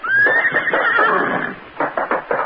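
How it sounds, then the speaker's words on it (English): A racehorse gives a loud, close neigh, a long shrill whinny that trails off into snorting, with hoof clip-clop at the end. "Rossiter, this horse gives me the willies."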